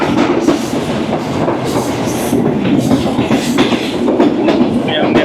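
Train running at speed through Hafizi station without slowing, heard from on board as a loud continuous rumble with rapid clickety-clack of wheels over rail joints throughout.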